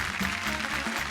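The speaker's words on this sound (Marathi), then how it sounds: "एकदा जोरदार टाळ्या होऊन जाऊ दे" Studio audience clapping at a Marathi TV women's gathering show, a dense steady patter of applause filling the whole moment without a break.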